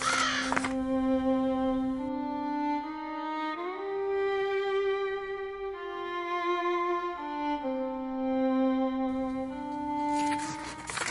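A raven caws, evoking Edgar Allan Poe's poem The Raven, heard as sustained tonal calls with slowly shifting pitch, loud and clear without speech.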